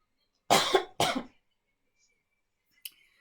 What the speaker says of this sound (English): I have such a dry cough.